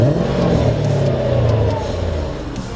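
Mercedes CLK engine revving through its exhaust with the eBay cutout valve closed, a deep, fairly muffled drone that rises and falls steadily up close.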